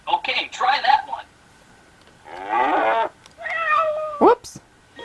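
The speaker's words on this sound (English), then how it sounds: "It's obviously the cat." A cat meow sounds from an Aibo robot dog card game, a short synthetic call heard alone after a few brief animal-like toy sounds, with a quick squeak near the end.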